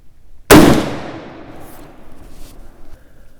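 A single sharp rifle report from an 1896 Krag Jorgensen firing handloaded ammunition, loud and close, with a sudden crack that rings off into a long fading tail of echo and background noise.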